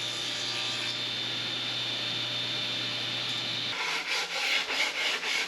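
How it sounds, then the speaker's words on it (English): A foam sanding sponge rubbing back and forth over wooden pantry shelving, a close, steady abrasive scrubbing that turns into shorter, rhythmic strokes toward the end. "This is actually a foam thing with sandpaper on it"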